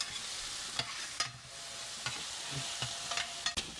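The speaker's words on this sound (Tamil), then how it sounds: "வெங்காயம் வதங்கட்டும்" Onions sautéing in oil give a soft, steady sizzle, punctuated by several sharp clicks and taps of stirring against the pan.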